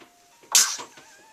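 A single sharp sneeze bursts out in a home kitchen, close and loud, rising from a quiet room and fading quickly into soft background noise.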